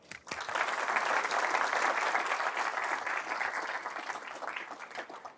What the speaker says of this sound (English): I want to give a round of applause for Alexandra Eldeblut